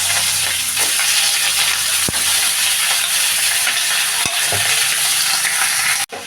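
Small-cut potatoes fry in oil with nigella seeds and green chillies as they get stirred, giving a loud, steady sizzle with occasional scraping knocks and no voices.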